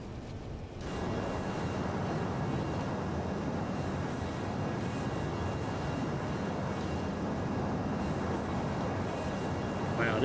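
Steady jet engine roar of a LearJet 35A in the MSFS 2020 flight simulator, a loud, continuous broadband drone that holds for the whole stretch after a brief quieter start.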